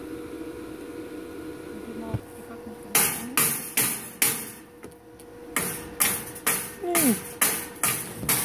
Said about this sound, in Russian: Постучи молоточком, проверь шлак.